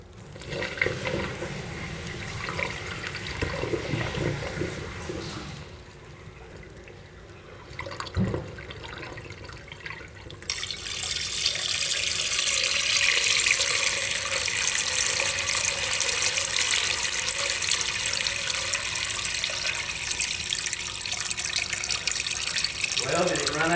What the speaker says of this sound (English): Okay, Randy, let's see if we can see any water or hear it.